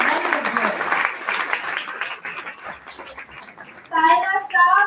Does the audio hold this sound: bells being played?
no